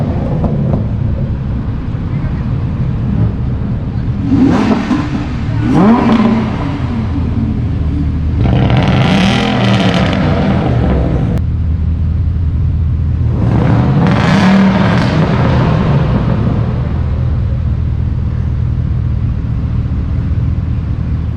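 A Jaguar XKR and other supercars rev hard on India's Formula One track, three loud rising engine bursts separated by idling rumble, with talk heard over the cars.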